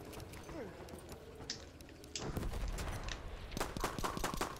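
Rifle and machine-gun fire in the Battlefield 1 video game, with sharp scattered shots growing into rapid bursts of closer gunfire over the last half, mixed with game effects.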